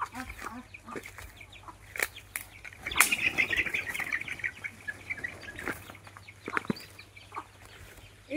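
Chickens at a small village farm cluck repeatedly, then a loud burst of wing flapping and squawking breaks out midway, followed by scattered clucks and scratching close by.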